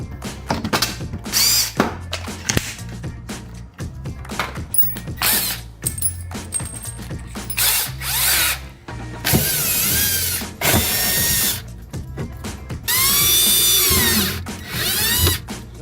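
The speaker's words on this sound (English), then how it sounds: "So what we're gonna do is drill new holes and put the screws through those new holes." A power drill bores new holes in a cracked drawer bracket, with repeated short whirring bursts starting and stopping, then longer high-pitched runs as the bit works through, loud and close.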